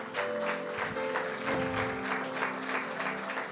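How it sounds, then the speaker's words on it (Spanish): A church congregation applauds, a steady wash of clapping from many hands with an organ or keyboard chord sustaining underneath. "Alguien tiene que darle un aplauso a Dios."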